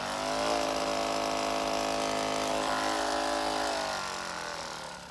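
A Hyperice Hypervolt massage gun that has grown louder and a bit rattly with use runs alone and close by, making a steady, buzzing motor drone for about five seconds before easing off slightly at the end.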